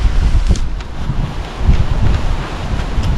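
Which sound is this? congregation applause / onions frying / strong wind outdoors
strong wind outdoors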